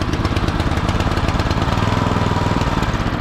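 Small engine idling and warming up on a brisk December morning at a curved paver walkway job, a loud steady chugging rhythm close by with no talk.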